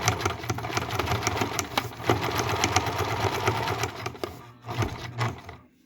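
A limited-edition New Home Janome sewing machine stitches a wide zigzag, its motor humming under a quick, rhythmic needle clatter up close, pausing briefly near the end.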